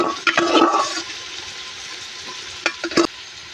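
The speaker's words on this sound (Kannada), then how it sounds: "ಇವಾಗ ಬೇಯಿಸ್ಕೊಂಡಿರೋ ಹಲಸಿನಕಾಯಿನ ಇದು ಫ್ರೈ ಒಗ್ಗರಣೆಗೆ ಸೇರಿಸ್ತಾ ಇದ್ದೀನಿ" Boiled jackfruit pieces drop into a hot turmeric tempering, giving a loud burst of hissing sizzle that fades to a low frying crackle, followed by a couple of brief sharp spatters near the end.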